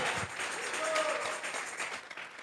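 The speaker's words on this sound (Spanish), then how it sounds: "Vamos a regalarle una ofrenda de palmas al que viene a traer a su iglesia." A church congregation claps together during a sermon, a dense, moderately loud burst of applause that swells and then thins out toward the end.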